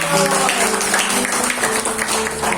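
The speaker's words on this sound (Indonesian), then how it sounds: "tepuk tangan yang semangat" An audience at a church gathering in Malang claps energetically, with a voice and faint tonal music or hum running under the brief burst of applause.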